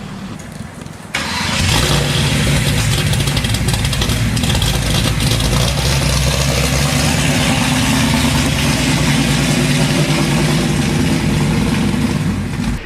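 A 1970 Chevrolet Camaro with a 427 engine fires up after a brief quiet moment and then settles into a loud, close, continuous rumble with a deep, steady idle throb, no one speaking.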